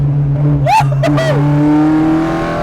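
A Ford Fiesta XR2 with a 2.0 Zetec engine on individual throttle bodies is driven fast, engine droning and rising loud and close, with brief chirpy vocal bursts over it.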